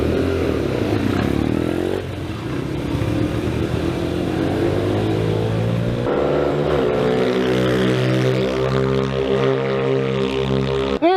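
Go-karts racing around a go-kart track in a father-daughter race, small engines droning and shifting pitch continuously as they accelerate, loud and close with no talk.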